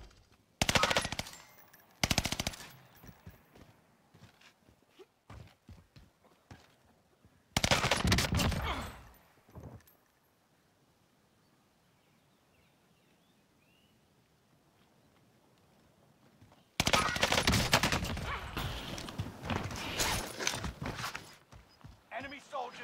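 Automaton rifle firing in Warzone, sharp rapid bursts in three separate clusters with quiet gaps between, close and loud, with someone talking between volleys.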